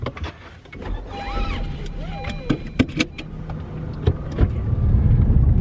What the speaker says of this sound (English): let's just go for a test drive so that I can really highlight my favorite things about this shifter.